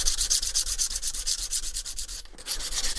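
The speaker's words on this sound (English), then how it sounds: "just breaking some sharp edges with some quick sandpaper" Sandpaper quickly breaking the sharp edges of a Winchester 370 shotgun part: steady, close, rhythmic back-and-forth rasping strokes with a brief pause before the scraping resumes.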